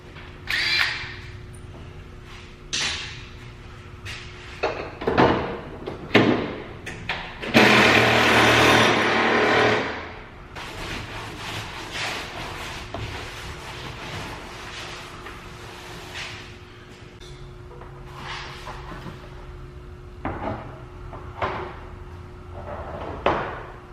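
Metallic clunks and tool noises while removing old spoiler brackets from a Nissan 240SX trunk, with a loud burst of a power tool whirring for a couple of seconds, then scattered knocks and clicks.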